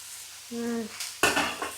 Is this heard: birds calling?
no